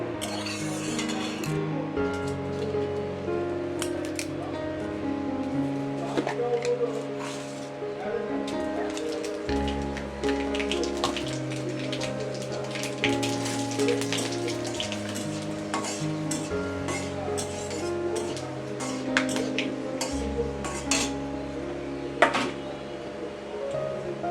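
Data chorchori, Bengali vegetable stems, sizzles steadily in hot oil throughout, a soft continuous frying hiss sitting under a prominent tonal background with stepped pitches and occasional light clinks.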